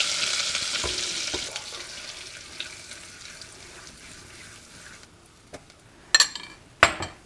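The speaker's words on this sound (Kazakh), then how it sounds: "Екі қасық ұн салып, кішкене қызартып аламыз. Қызартып қуыру керек бұны." Flour fries in melted sheep fat and butter while being stirred, a steady close sizzling hiss that fades after about five seconds, followed by a few sharp scraping clinks near the end.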